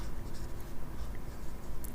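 A pen scratching out a maths solution by hand, a soft continuous scraping of strokes on paper, quiet and close.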